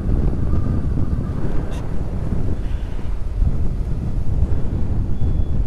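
Strong wind buffeting a helmet while riding a motorbike slowly in morning fog, a loud low rumbling gust noise that stays constant and close throughout.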